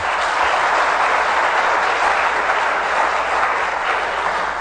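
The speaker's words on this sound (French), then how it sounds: "Applaudissements s'il vous plaît." A crowd at a competition between Collège Canado-Haïtien and Lycée de Pétionville applauds in a continuous, loud wash of clapping that stays even across the whole stretch, with no clear talk on top.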